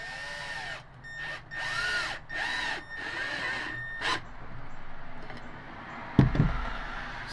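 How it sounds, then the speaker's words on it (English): Power drill boring an angled pocket screw slot in wood with a pocket-hole jig, a whining motor spinning up in several short bursts, then a closing knock. "as you can see, it drills the slot in at an angle"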